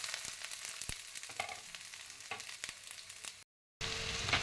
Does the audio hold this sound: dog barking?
no